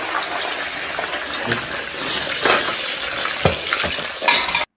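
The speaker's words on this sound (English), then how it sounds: "a man in a full chef's uniform dropped frozen fries into hot oil" Frozen fries hit hot oil in a pot, setting off a loud, close, continuous sizzle and bubbling fry with sharp crackling bursts, no talking.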